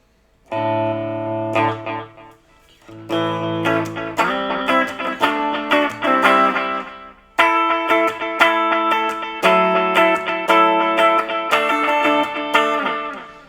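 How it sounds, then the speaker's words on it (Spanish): Electric guitar played through a Fender Champion 20 combo amp with a flanger effect, ringing sustained chords and picked phrases, steady and fairly loud, with a short break between strums and no voices. "Un flanger"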